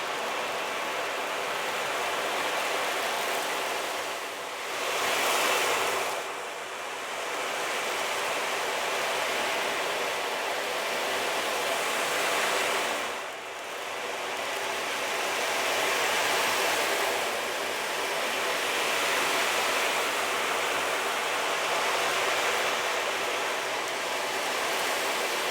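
An ocean drum rolled slowly to imitate sea waves for meditation gives a steady broadband wash of rustling beads with gentle swells and brief dips, continuous and fairly loud with no talking.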